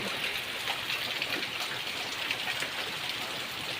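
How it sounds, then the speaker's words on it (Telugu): Heavy rain falls steadily around a village home, a dense, continuous hiss of drops pattering on surfaces at an even, fairly close level, with no voices. "ఘోరంగా అంటే ఘోరంగా వర్షం పడుతుంది"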